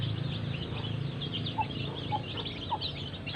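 Free-range village chickens cluck and call while being fed in the late afternoon, several birds close by over a continuous low background murmur, with occasional sharper calls standing out.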